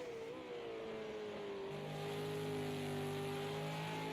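Race cars at speed on the Circuit of the Americas road course during a National 200 race, engines droning steadily with rising pitch as they pass through the S-curves, fairly distant and continuous with no talk.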